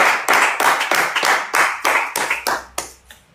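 A small group clapping to acclaim the Lord, with loud close claps in an uneven rhythm of about a dozen strokes that slows and fades toward the end, heard with no voices.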